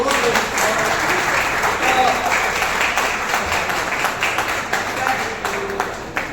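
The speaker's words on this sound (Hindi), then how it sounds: "एक बार जोरदार तालियां बजाएं इनके लिए।" An audience in a hall claps steadily for a speaker at a Rotary library event, a dense, sustained wash of applause that holds at full strength for several seconds before beginning to thin toward the end.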